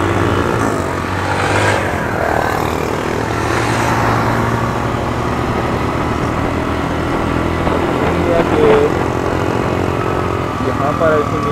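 Motorbikes ride uphill toward Mangla Fort, their engines droning steadily and close with shifting pitch, while people talk over the engine noise.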